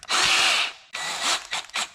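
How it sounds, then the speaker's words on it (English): A Ryobi cordless drill fitted with a sanding disc attachment whirs in several close, loud bursts, one long run followed by shorter pulses, rubbing against a headlight lens on an R33 GT-R. "Okay, so I've got my handy Ryobi drill."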